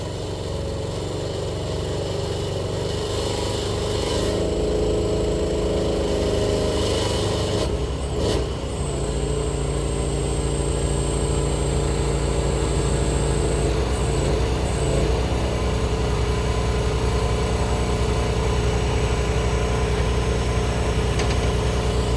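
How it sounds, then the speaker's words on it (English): A pickup truck parked with a cabin loaded on its trailer idles steadily with a continuous low engine drone that stays constant throughout, no talking. "Now the truck's back in park."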